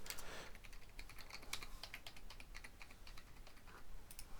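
Typing a long password on a computer keyboard, a quick continuous run of light key clicks, close and fairly quiet, with no voices.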